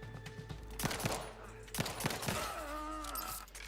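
Gunfire in Outer Worlds 2 comes as several sharp, punchy shots spaced irregularly over rumbling game ambience, with an explosion-like burst and trailing tonal effects toward the end.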